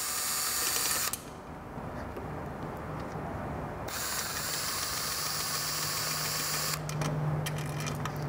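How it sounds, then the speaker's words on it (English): A power driver with a wobble extension runs in loud whirring bursts on the oil pan fasteners of a Vespa GTS scooter. Quieter low humming fills the pauses between bursts. "you gotta be careful using a wobble in a power driver such as this"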